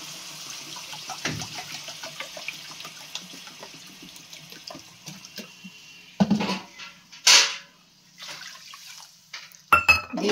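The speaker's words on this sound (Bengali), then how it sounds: "আরও 1 বাটি জল দেবো" Water poured from a bowl into a pan of sautéed rice, a continuous close splashing pour with a hissing sizzle, followed by a few louder splashes and clatters of the bowl near the end.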